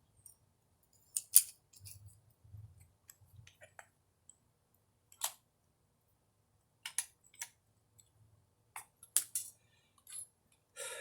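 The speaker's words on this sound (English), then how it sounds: "This is the cutoff tool, which is really thin, but I was using the thicker grinder. So what I'm going to do now is swap them out." Swapping a thin cutoff wheel and a thicker grinding disc on an angle grinder, done with pliers: scattered sharp metallic clicks and clinks with quiet pauses between them, close and fairly soft.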